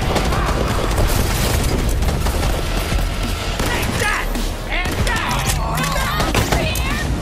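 Loud, dense explosions and rapid gunfire from Borderlands 3 combat fill the whole stretch, with booms stacking over continuous shooting and voices speaking amid the chaos.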